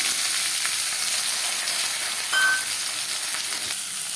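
Chopped onion sizzles in hot refined oil for a chicken momo filling, a steady, close, bright frying hiss that runs throughout with a brief sharper crackle midway.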